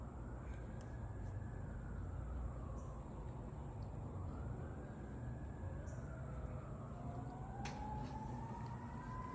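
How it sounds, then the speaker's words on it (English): A wailing siren rises and falls in long sweeping cycles over a dense rumble of traffic, steady and fairly close, with no talking. "let the sirens go and then you can talk"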